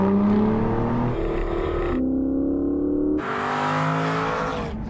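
An Aston Martin Virage engine revs hard and loud, pitch climbing through several gear changes with brief drops between each shift.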